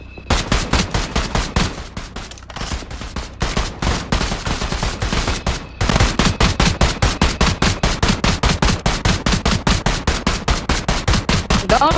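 Rapid automatic gunfire in a shooting video game, loud and close, bursts of machine-gun fire running almost without pause, with brief gaps and no talk.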